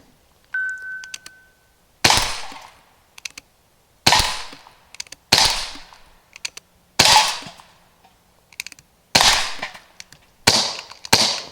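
Gun with a camera clamped onto it, fired outdoors; around eight sharp, loud shots ring out one at a time at irregular intervals of one to two seconds, each trailing off quickly, with quiet gaps between.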